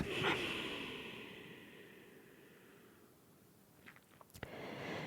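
A long, breathy exhale during a yoga flow class, a soft airy rush that fades gradually before a few faint clicks and a brief rustle near the end.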